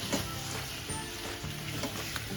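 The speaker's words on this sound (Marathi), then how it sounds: "आता आपण 4 ते 5 मिनिट तुपात परतल्यानंतर आता गूळ मध्ये आपल्याला ह्याला शिजवायचं आहे" Slices cook in ghee and jaggery in a pan, giving a soft, steady sizzle with occasional light stirring scrapes. Close but fairly quiet, with no voices.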